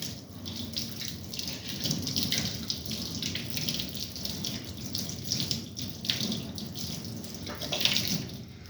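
Running tap water splashes steadily into a sink as something is washed out, a continuous close rush with slight surges and no voices.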